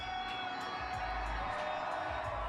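A large crowd roars steadily at the Astros championship parade in downtown Houston, a continuous wash of cheering and distant whoops with no breaks.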